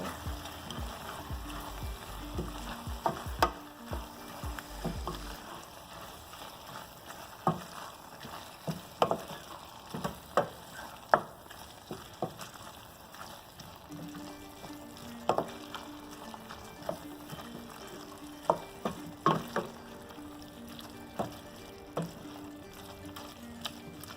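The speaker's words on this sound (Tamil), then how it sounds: "நல்லா கிண்டிக்கோங்க." Broad beans tomato curry with grated coconut being stirred in a pan, soft steady frying sizzle with frequent sharp ladle taps and scrapes scattered throughout, close and moderately quiet.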